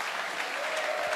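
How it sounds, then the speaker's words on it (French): A church congregation applauds and cheers, dense continuous clapping from a large crowd filling the space throughout. "Est-ce qu'on peut acclamer pour ces personnes?"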